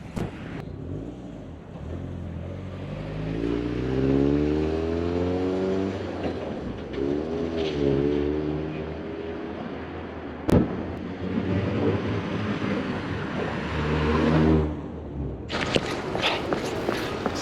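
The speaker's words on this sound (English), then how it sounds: "We'll do a little drive-by so you can hear the exhaust" A Mazda Miata with an aftermarket exhaust approaches, passes and pulls away, its engine note rising and falling in pitch with the revs, heard loud and near throughout the drive-by.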